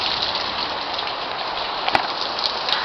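Heavy rain pours down outdoors in a dense, constant hiss of drops, close and loud, with a few sharper taps near the end.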